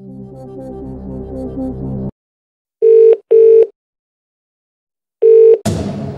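Phone-a-friend call sequence from the Who Wants To Be A Millionaire game: a low tense musical sting cuts off, then two separate outgoing ring tones and a third tone are followed by a click as the line picks up.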